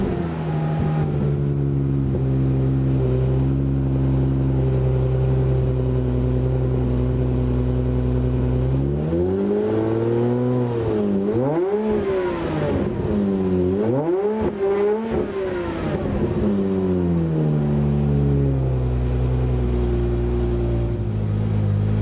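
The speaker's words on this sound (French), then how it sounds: "Là vous entendez bien le V12 qui commence à muer en V10." An Aston Martin DB7 V12 engine breathes through an optional exhaust, idling with a deep steady drone, then rising and falling through several loud revs in the middle before settling back, close and with no talk.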